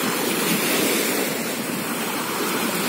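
Sea waves washing onto the shore of Berdyansk Spit, a loud, continuous surf rush with wind on the microphone and no voices heard.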